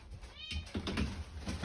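Cats meow at an Italian cat shelter, several fairly clear meows rising over a noisy room background and coming from close by, with no clear talk.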